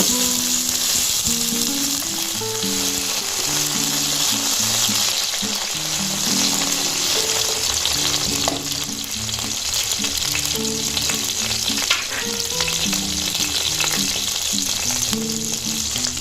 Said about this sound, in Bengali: জাস্ট টমেটোর কাঁচা গন্ধটা যাওয়ার জন্য একটু ভেজে নেবো